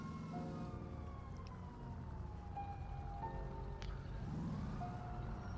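A police car siren from the video game GTA V wails in the distance, its tone gliding up and down faintly over a low rumble of traffic and engines.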